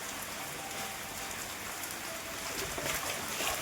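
Rain falls steadily in a household setting, a soft, even hiss of drops pattering on surfaces, quiet and continuous with no voices.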